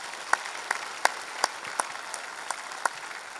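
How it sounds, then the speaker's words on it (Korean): A church congregation applauds its Sunday school teachers, heard as a thin run of separate claps spaced out in a slow, uneven rhythm, fairly faint against a quiet room. "우리가 그분들에게 선물을 못해도 감사하다고 우리 박수로 우리 선생님들을 격려하도록 하겠습니다."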